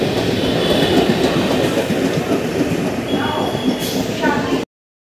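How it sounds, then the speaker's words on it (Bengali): A suburban mainline train runs between Dum Dum and Belgharia, a loud steady rumble of wheels and carriages with clattering and brief squeals throughout, under background voices, before cutting out near the end. "দমদম জংশন থেকে আমি মেল লাইনে যাওয়ার ট্রেন ধরে নেব।"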